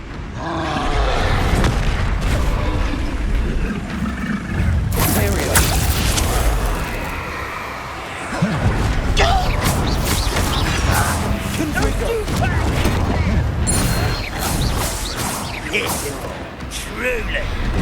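Blasting spells in Hogwarts Legacy, booming and crashing in repeated loud bursts through a chaotic fight, with voices talking over the impacts.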